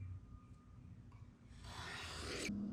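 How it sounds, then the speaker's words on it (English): A hand plane shaves the end grain of a board on a shooting board: soft rubbing and rasping strokes that swell into a louder, brighter pass, heard close up with no talking. "Then I just square up all the end grain on the shooting board."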